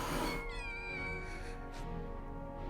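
Cats meow in the video game Final Fantasy 7 Rebirth, one drawn-out, wavering mewl rising and falling at close range over a steady game music bed.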